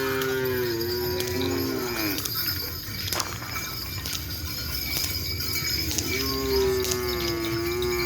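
Large cattle moo loudly and close by, a long low call opening the scene and another returning near the end, over a busy background of clattering and livestock-area noise.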